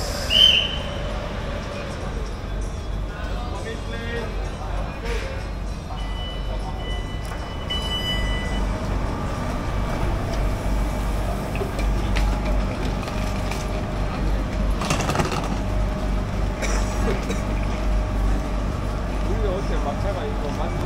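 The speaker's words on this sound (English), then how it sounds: "So Skytrain's pulled up. There it is." A Bangkok Skytrain pulls into an elevated station, its steady low rumble and rolling rail noise filling the clip under continuous platform ambience, with brief brake hiss and chimes, while someone talks over it.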